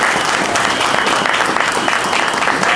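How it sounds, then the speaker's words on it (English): A crowd claps steadily through a Guardian Angels 36th anniversary celebration, dense, continuous applause filling the room at even loudness from start to finish with no break. "So let's give her a great round of applause."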